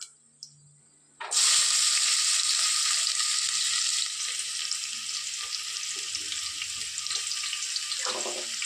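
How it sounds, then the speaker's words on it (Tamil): Onions and whole spices tipped into hot oil in a pressure cooker, a few faint knocks before a sudden loud hiss that holds as steady, bright sizzling with light stirring underneath. "எண்ணெய் சூடாகிடுச்சு. இப்போ பட்டை ஜாமான் போட்டுக்கலாம். வெங்காயம் போட்டுக்கலாம்."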